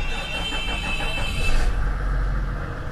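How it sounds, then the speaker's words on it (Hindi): A Toyota Land Cruiser 100 with a 4200cc inline-six diesel cranks and catches, then settles into a steady, close, loud idle with a deep low rumble, with no talking. "तो चलें लगे हाथों गाड़ी को स्टार्ट भी कर लेते हैं, मैं आपको इसको स्टार्ट करके भी दिखा देता हूं।"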